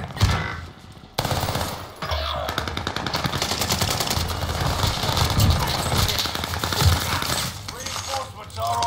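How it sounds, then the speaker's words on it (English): Rapid automatic gunfire in a battle royale video game, dense bursts of shots with sharp impacts running almost continuously, with players talking over it. "Sustaining fire."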